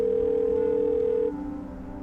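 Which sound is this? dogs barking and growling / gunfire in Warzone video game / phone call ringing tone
phone call ringing tone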